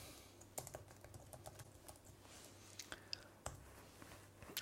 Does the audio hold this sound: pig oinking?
no